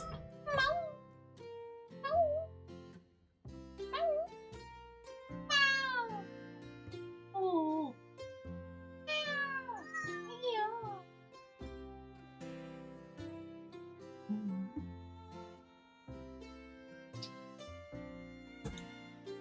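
A house cat meows repeatedly nearby in a series of rising, wavering cries and longer wails, with a pet-owner's indoor room tone behind it.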